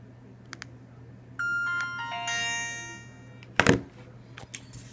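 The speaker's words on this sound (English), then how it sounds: "So I am going to power off this phone." An Alcatel OT-1042 mobile phone plays its power-off tune: a short, clear electronic melody of stepped tones lasting about two seconds, followed a moment later by a brief thunk and faint handling noises.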